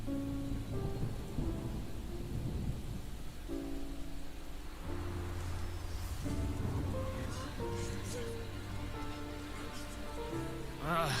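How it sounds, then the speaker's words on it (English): Steady rain with rumbling thunder in the Genshin Impact video game, a constant hiss of rainfall under layered tonal game music and effects. "It's raining! Oh no!"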